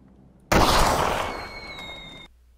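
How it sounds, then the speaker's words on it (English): A PUBG flare gun fired from the hip gives one sharp loud pop that trails into a roughly two-second fizzing hiss before cutting off. "Now here's what it looks like when you hipfire a flare gun."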